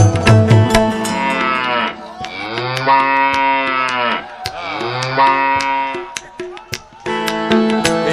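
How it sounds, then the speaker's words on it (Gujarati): A calf moos loudly and close by, about four long drawn-out calls in a row separated by short pauses, with no talking. "હવે જોઈ લો વાછરડાના ખેલ"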